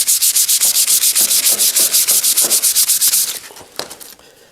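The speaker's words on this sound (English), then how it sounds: "do a little hand sanding" Rapid, steady back-and-forth strokes of sandpaper hand-sanding a wooden shotgun stock, loud and close, about seven strokes per second before slowing and fading out.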